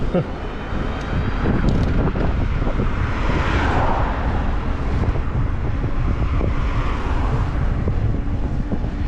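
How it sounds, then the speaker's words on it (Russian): Strong headwind roars against the microphone of a cyclist riding in Crimea in April, a loud continuous low rumble that persists throughout, with a voice briefly heard beneath it. "Встречный ветер."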